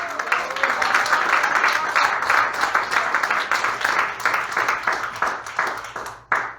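Church congregation applauding during a sermon, a steady patter of many hands clapping that thins out toward the end, moderately distant and fairly quiet.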